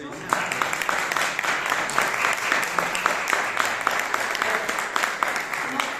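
A lecture audience applauds a welcomed guest speaker at a talk, many hands clapping in an even, continuous rhythm at moderate level throughout.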